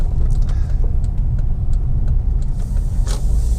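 Honda FR-V 1.8 i-VTEC car driving and braking, a steady low road rumble from the cabin with faint ticks and a soft rise near the end, no voices.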